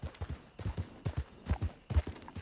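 Horse hooves clip-clopping in the video game Red Dead Redemption 2, a steady, close, rhythmic trot of dull thudding hoofbeats with faint background voices.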